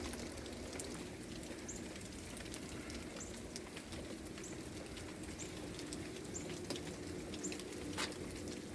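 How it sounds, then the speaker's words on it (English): Steady rain patters and hisses continuously, with scattered drips tapping nearby and faint bird calls in the background. "Do you hear that rain still?"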